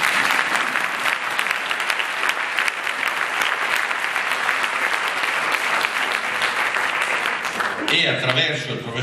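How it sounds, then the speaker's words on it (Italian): Audience applause at a book presentation about the life of Don Giussani, loud, steady and sustained for about eight seconds, then breaking off abruptly near the end. "qui si fa l'applauso"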